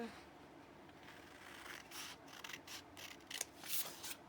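Scissors cut through paper for a junk journal, producing quiet, close rubbing and snipping strokes that build into several sharper crisp cuts toward the end, with no talking.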